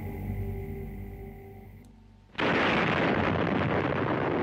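Tsar Bomba nuclear bomb detonation: a quieter droning tone cuts off, then a sudden massive roaring blast erupts and holds as a loud, sustained, dense rumble to the end.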